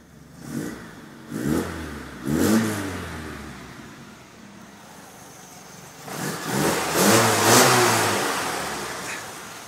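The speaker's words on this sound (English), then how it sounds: "I love that exhaust, it just sounds great." A Fiat 130 engine revs repeatedly out of gear, rising and falling in several throaty bursts with a deep exhaust note, close and loud, ending in a longer rev.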